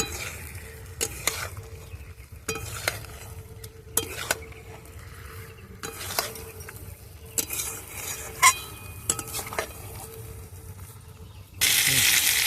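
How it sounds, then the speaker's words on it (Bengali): Brinjal and potato stir-fried together in a pan, a continuous soft sizzle broken by repeated scraping and clinking strokes of a spatula against metal, ending in a sudden loud burst of hiss. "বেগুন আলু একসাথে ভালো করে একটু কষিয়ে নেব"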